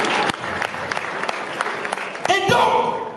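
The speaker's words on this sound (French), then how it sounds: "Applaudissez pour le Didier." An audience at a one-man comedy show applauds with scattered claps that build into fuller clapping near the end, while a speaker talks over it.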